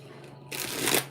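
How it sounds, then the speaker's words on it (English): Tarot cards shuffled in one burst of brisk riffling that builds and then stops abruptly, heard close up over a low steady background hum with no talking. "I gotta shuffle one more time."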